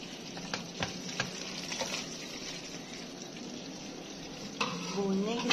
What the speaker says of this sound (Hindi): इसको अब ये भून रहा है।